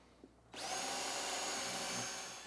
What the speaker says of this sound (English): I'm going to go in with a 1/4 inch drill bit.